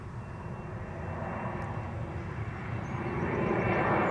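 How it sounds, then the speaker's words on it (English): A Delta Airlines jet departs from runway 24 at Amsterdam Schiphol, its engines roaring as a broad, steady rumble heard from a distance that slowly swells in loudness, with no talking. "And in the background, Delta Airlines flight 135"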